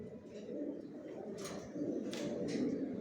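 Pigeons coo softly in a rooftop loft, low repeated throaty calls over a steady murmur of background noise, fairly faint and close.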